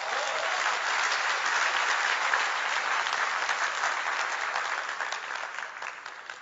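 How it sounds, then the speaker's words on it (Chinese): Sustained applause from a large audience at a leadership training meeting in Indonesia, steady dense clapping that holds for several seconds and then tapers slightly, with no voices over it. "给大家一个掌声好不好？"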